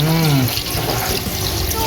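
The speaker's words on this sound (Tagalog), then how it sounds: "Lalagyan na natin siya ng tubig." Water is poured into a cooking pot in a rural Philippine kitchen, a steady splashing fill under a person talking throughout.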